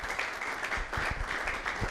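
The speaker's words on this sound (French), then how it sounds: "on démarre cette émission avec des applaudissements" Studio audience applause opening a TV show, a dense continuous patter of many hands clapping, fairly loud and sustained without a pause.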